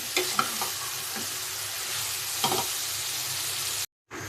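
Inside a hot frying pan where rui fish roe bhuna is cooking, a steady sizzling hiss runs on after water is added, broken by a few stirring clicks before it cuts to silence near the end.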